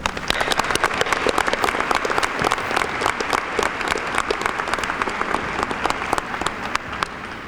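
An audience at a 2017 high school graduation ceremony claps loudly and steadily throughout, a dense wash of many hands with no pause.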